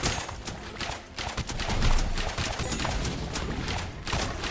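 Rapid cannon and crossbow fire in the roguelite tower-defense video game Siegecaster, a loud, steady barrage of sharp repeated bursts with a brief dip partway through.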